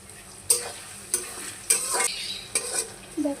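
Cinnamon, cardamom and cloves frying in oil for chicken biryani, with a soft sizzle and four or five sharp spatula scrapes against the pot, close, with no voices.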